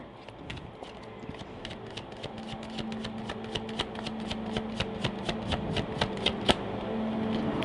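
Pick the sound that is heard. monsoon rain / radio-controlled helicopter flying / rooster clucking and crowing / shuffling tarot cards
shuffling tarot cards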